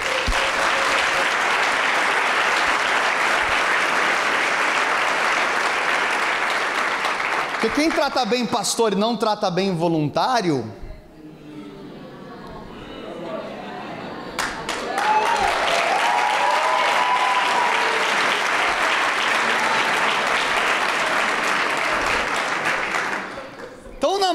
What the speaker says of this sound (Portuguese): Vamos dar uma salva de palmas a Jesus pelos voluntários.